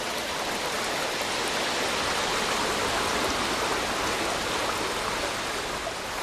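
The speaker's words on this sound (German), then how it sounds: "Reißende Bäche durchströmen wilde Schluchten" Rushing mountain streams pouring through wild gorges, a dense, steady broadband roar of whitewater that stays constant and fairly loud throughout with no voices.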